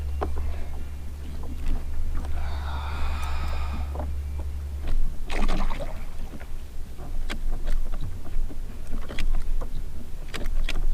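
A fishing boat on a lake is rowed back, its oars making rhythmic splashes and knocks against the water and hull, after a low motor hum stops early on, with light wind around.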